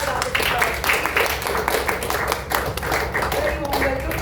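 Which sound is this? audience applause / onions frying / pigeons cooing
audience applause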